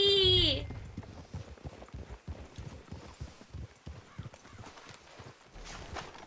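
Horse hooves clip-clop steadily in Red Dead Redemption 2, a rhythmic run of soft, moderately distant hoofbeats over low ambient background, preceded by a brief tonal flourish at the start.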